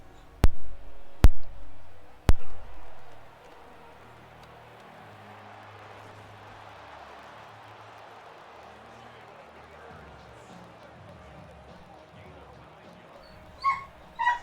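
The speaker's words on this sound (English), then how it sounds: "Sorry, you guys hear the dog in the back." Several dogs in a house bark sharply in a quick burst of three near the start, then settle into faint whimpering and yips in the background, with a couple more barks at the end.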